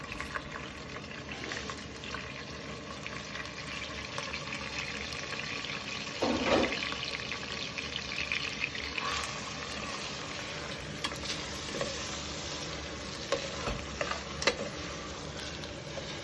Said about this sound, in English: Start adding the rice to the heated oil.